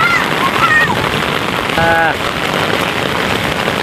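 Steady rain pours down throughout at an amusement park in a dense, hissing wash, with brief muffled voices of a crowd rising faintly in the middle.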